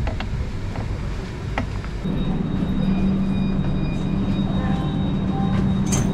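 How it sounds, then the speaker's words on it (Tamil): A Tejas Express train rumbles steadily into Tiruchirappalli railway station with low droning and a sustained hum, wheels and carriage noise rolling on, plus a few faint metallic clicks and squeals. "Train Tiruchirappalli railway ஸ்டேஷனுக்குள்ளேயும் enter ஆகிடுச்சிங்க."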